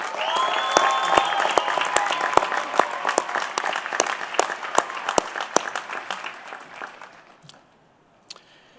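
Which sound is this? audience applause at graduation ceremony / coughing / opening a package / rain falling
audience applause at graduation ceremony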